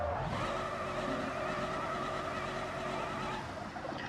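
An off-road build in the BeamNG driving game drifts with a steady engine roar and a sustained tire squeal that runs through most of the stretch before easing off.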